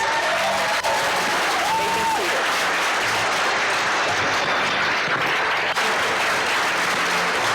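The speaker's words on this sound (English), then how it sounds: "Let's give them another round of applause." A hall of fame ceremony audience for Petersburg athletics keeps up steady, dense applause through the whole stretch, loud and sustained with a faint murmur of voices beneath.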